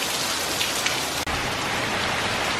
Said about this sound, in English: Just rain and wind.